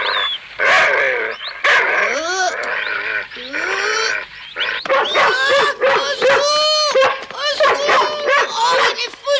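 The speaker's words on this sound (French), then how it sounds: "Oh, il est fou ce chien!" A dog barks and yips excitedly in rapid bursts, close and loud, with whining and excited yelps between barks.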